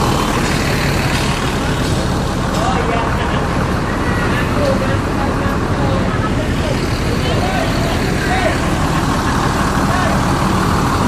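An ANS Eriaka Arjuna bus idles and rumbles amid steady, loud roadway traffic noise, with a constant engine drone throughout and a few faint higher tones and background voices.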